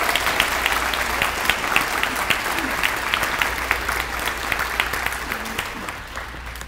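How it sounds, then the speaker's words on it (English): An audience at an elementary school dedication applauds the school principal. Steady, crisp clapping from a large crowd runs throughout, with a few faint voices and cheers mixed in, tapering slightly at the end. "Huge round of applause."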